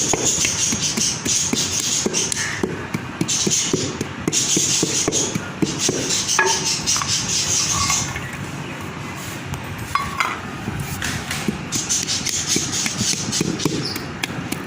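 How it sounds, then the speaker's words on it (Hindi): Almonds being ground and rubbed by hand make a close, loud, continuous rhythm of scraping, knocking and light clinks that runs throughout. "ये ऐसा बादाम डालते जाए, इसको भी आपने जो है ना रगड़ना है बहुत अच्छी तरह"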